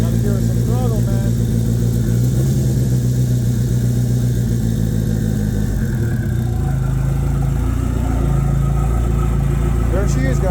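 A Mitsubishi Mirage converted to an Evo 3 4G63 engine cold-starts after three months of sitting, idling rough and loud close by with throttle blips rising and falling, while someone talks over it.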